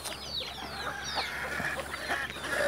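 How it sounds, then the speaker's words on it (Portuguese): Black-speckled free-range chickens on a farm cluck and chirp in short, repeated calls at moderate distance over a quiet background. "Aí, ó, galinha pintada de preto."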